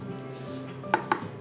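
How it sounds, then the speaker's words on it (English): A knife chops through jalapeños on a cutting board, two sharp distinct knocks close together, near and clear over faint room tone. "I just chopped the top off of my jalapenos"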